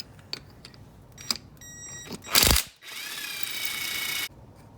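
A pneumatic impact wrench bursts on a brake caliper bolt, with a short loud hammering rattle followed by a longer steady whine, and small tool clicks before it.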